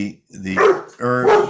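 Scout, a dog, gives two close, loud barks in quick succession, with a voice speaking just before them.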